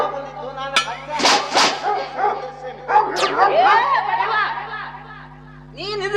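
In a Kannada comedy stage skit, several loud yelping bark-like bursts rise among people's voices and chatter.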